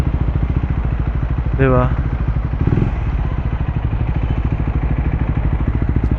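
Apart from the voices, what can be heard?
Triumph Speed 400 motorcycle with Muff City slip-on exhaust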